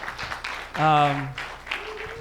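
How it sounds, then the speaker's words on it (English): A short burst of applause at a Sunday church service with a voice calling out over it, fairly close, before the clapping fades under quieter talk. "let's give them a round of applause"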